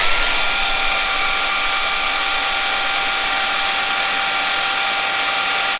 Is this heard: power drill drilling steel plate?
yes